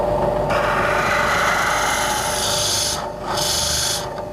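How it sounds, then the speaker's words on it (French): A wooden baroque flute body turns on a lathe against a fixed drill bit, giving a steady, close, continuous grinding rasp of boring through wood with a brief dip near the end. "c'est la flûte qui tourne et c'est le forêt qui est fixe, contrairement au perçage sur une perceuse."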